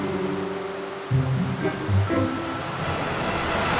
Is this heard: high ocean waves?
yes